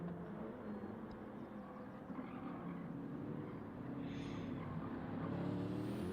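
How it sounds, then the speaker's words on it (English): A BMW race car engine in a racing video game drones steadily and loudly at high revs, its pitch climbing gradually over several seconds as the car accelerates, with no talk over it. "And this BMW can be a ripper if you know how to drive it."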